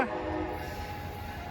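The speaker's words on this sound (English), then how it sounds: "Now leaving at Martinez is Capital Corridor train 747." An Amtrak Capitol Corridor passenger train, train 747, pulls out of Martinez station southbound, a brief horn-like tone at the start giving way to a steady rumble of the departing cars.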